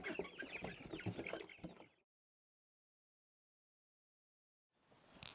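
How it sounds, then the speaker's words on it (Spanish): A chicken clucks rapidly and close by for a couple of seconds, then silence, followed by faint noise returning at the end. "tengo, una gallina aquí importada allá que me la trajeron"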